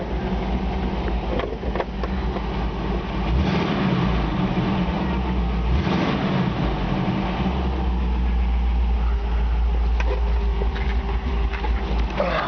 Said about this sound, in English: Listen to this engine run.